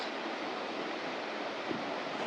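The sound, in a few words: waterfall below a hanging bridge in Kerala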